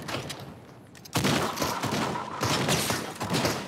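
Rapid bursts of gunfire in a Fortnite-style video game, sparse at first, then a loud, dense fusillade of overlapping shots close by.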